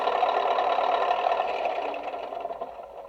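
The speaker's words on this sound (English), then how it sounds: "let me let this thing quiet down for a second. After 30 seconds, it shuts the motor sound down." Engine sound unit of a Tamiya Globe Liner RC truck idling, a steady buzzing, rattling drone that slowly fades quieter over three seconds, heard alone.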